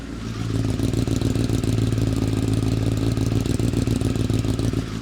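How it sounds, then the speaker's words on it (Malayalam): A deep, throaty inline-four superbike engine with its catalytic converter changed idles steadily and loud for the whole stretch, a rough rumbling burble with no voices. "കാറ്റലറ്റിക് കൺവേർട്ടർ ചേഞ്ച് ചെയ്ത വണ്ടിയാണ് അതുകൊണ്ട് തന്നെ ഇവൻ്റെ സൗണ്ട് അടിപൊളിയാണ്"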